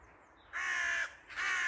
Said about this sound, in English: There's a crow over there.